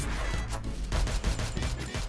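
Rapid bursts of gunfire crackle from the video game Free Fire, repeated shots loud and continuous over a steady background of game noise.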